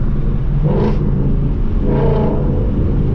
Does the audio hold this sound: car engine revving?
yes